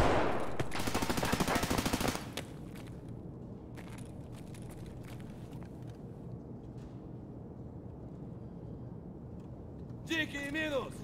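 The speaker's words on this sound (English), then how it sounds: "So that sounds like an illegal suppressor, and it sounds like full auto." Suppressed full-auto gunfire in a video game, a fast buzzing burst of shots for about two seconds at the start, followed by scattered fainter shots, with a voice talking over it.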